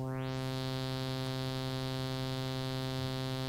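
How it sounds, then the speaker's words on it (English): A Pigments 6 Harmonic Engine synth holds a steady, dense harmonic tone whose upper partials swell to create the illusion of constantly rising pitch, sustained alone without any talk. "the partials that are on the high end get louder to give you this illusion of rising pitch"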